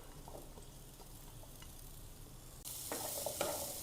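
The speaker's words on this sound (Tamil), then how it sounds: "வெங்காயத்தையும் சின்ன வெங்காயத்தையும் போட்டு வதக்கிக்கலாம்" Onions and shallots sauté in a pan for onion chutney: a faint low sizzle jumps to a brighter, louder crackle partway through, with light clicks of stirring.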